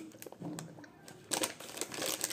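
Crinkling of a dried fruit gift package holding kiwi, pineapple and strawberry, quiet close plastic rustles in short bursts, louder toward the end, with faint talk in the background.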